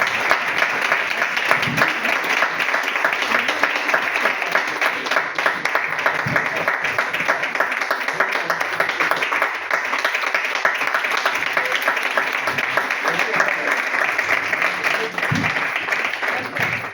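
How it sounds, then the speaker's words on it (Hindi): A seminar audience in Delhi gives sustained, loud applause, many hands clapping in an even, unbroken roar that holds steady for a long stretch. "तो एक बार जोरदार तालियां होनी चाहिए"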